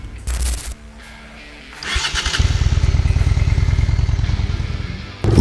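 A Honda Shadow VLX 600 (VT600C) V-twin motorcycle cranks with a short whirring starter, then its engine catches and settles into a steady, loud, rhythmic idle thump close by, with a brief revving swell at the end.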